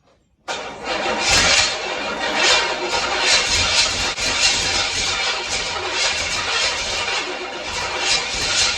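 A GTO 455 engine in a 1968 Firebird cranking without catching, the starter churning in a steady rapid rhythm for about eight seconds, loud and close, with no firing.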